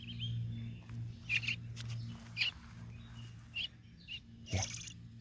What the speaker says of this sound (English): Look at a little baby bird.